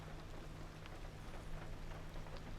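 Steady rain in the video game Pacific Drive, a continuous wash of drops hissing on a car body at a low, even level, with no voices over it.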